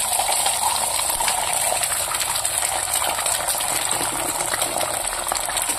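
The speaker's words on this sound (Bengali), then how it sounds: "ডিমটা ভেজে নেব" Egg sizzling in leftover oil in a pan, cooked for Maggi noodles: a steady, dense frying hiss that runs unbroken and fairly loud throughout, with no voices.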